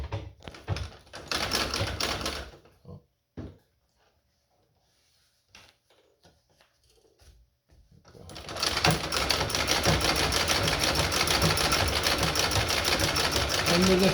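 Treadle sewing machine running steadily and fairly loud for the last several seconds, after a stretch of short clattering bursts and near silence.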